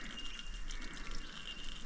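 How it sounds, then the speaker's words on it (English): Water gurgles and trickles continuously as it overflows from a pressurised Caterpillar D5 bulldozer engine radiator, over a low steady hum, a close, busy liquid splashing with no voices. "God, the water's overflowing."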